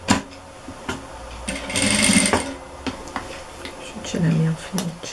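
A domestic sewing machine stitches along the edge of a cotton dish towel in short mechanical bursts, with a louder stretch of whirring near the middle, while someone talks quietly over it.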